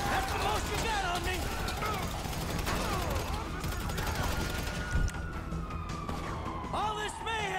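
Gunfire bursts in a video game amid wailing police sirens and emergency vehicle noise near Los Santos International Airport, with a voice talking over the chaotic, dense mix.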